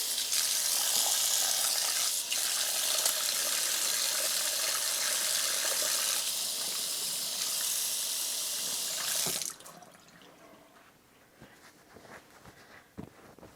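A kitchen tap runs loudly into a sink while hands are washed, a steady gushing stream for about nine seconds before shutting off, followed by quieter drips and handling noises.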